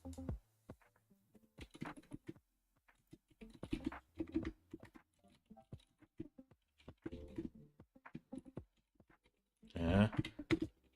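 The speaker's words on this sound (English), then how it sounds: "And my keyboard is noisy." A noisy computer keyboard clatters close by in scattered bursts of rapid keystrokes, separated by quiet pauses in an otherwise still room, with a final dense flurry of typing near the end.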